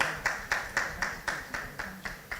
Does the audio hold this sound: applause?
yes